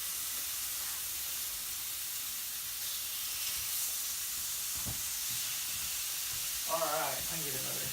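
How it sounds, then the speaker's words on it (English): Bacon lightly browning in a pan gives a steady, soft sizzle and hiss throughout, with a brief clink near the middle and a short voice toward the end. "woo, you can hear it sizzle."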